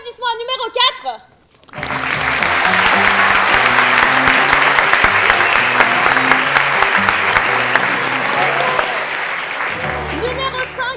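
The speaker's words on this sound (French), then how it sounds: "Nous allons donc faire un tonnerre d'applaudissements à numéro 4." A voice speaks briefly in French, then a large audience at an improv festival in Paris breaks into loud, sustained applause that lasts several seconds before the speaking resumes.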